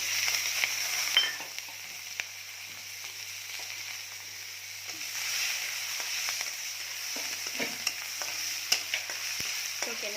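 Onion frying in oil with green chili for an Assamese fish masala curry, a faint continuous sizzle with scattered clicks of stirring over a low steady hum, no voices.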